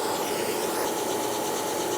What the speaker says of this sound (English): And I'm just going to go a little deeper with that center drill.